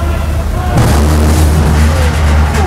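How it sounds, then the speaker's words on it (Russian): A Chinese-made anti-aircraft gun fires aboard a Myanmar navy frigate: a single loud boom breaks over a steady ship engine hum and trails off into a rolling rumble. "в походе на фрегате «Синпьюшин» нам показывают в деле зенитную пушку"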